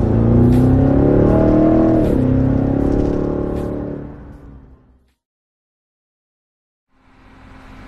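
A 2020 Cadillac CT6-V Blackwing V8 revs loudly and close, its engine note climbing and falling over the first few seconds. It then fades into near silence before a low engine hum returns at the end.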